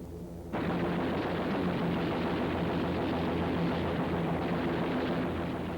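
A Lockheed AH-56A Cheyenne helicopter firing a long-range gun burst: a sudden loud, dense, continuous roar of rapid fire that starts abruptly and holds steady for several seconds, with no talking.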